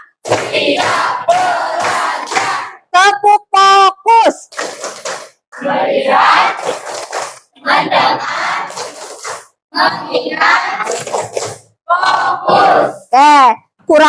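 Schoolchildren in a classroom shout a loud, rhythmic clapping chant together, sharp clap bursts alternating with group cries in short, energetic phrases separated by brief pauses.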